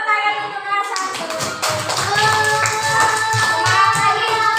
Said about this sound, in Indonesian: Tepuk tangan untuk kelas 1